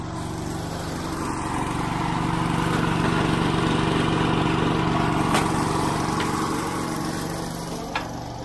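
An All Flo half-inch air-operated diaphragm pump cranked up to full speed, giving a steady, loud mechanical drone with a rapid pulsing rhythm that holds evenly throughout, with no talking.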